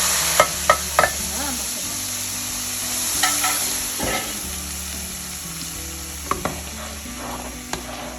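Spices sizzling and crackling in hot oil for a yogurt curry tempering, a steady frying hiss with occasional sharp pops and a faint metallic clink.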